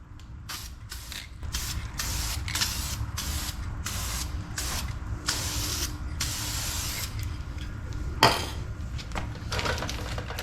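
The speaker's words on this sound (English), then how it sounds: "Hit this thing with a little bit of oil spray." Oil spray hisses onto a framed foam air filter for a 2005 Honda XR650R dirt bike, coming in about a dozen short, loud bursts of varying length in a steady rhythm, close by, with a brief knock near the end.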